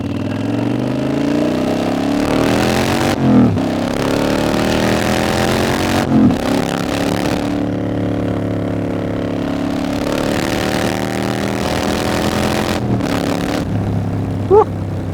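A customized Kawasaki Vulcan 900 cruiser motorcycle revs its exhaust up and down in repeated pulls, rising and falling loudly and close by, with brief drops between surges and no talking over it.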